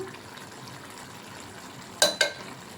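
Chicken curry with chili powder stirred in a pan, a quiet low simmer with two sharp scraping clinks of the spoon against the pan near the end.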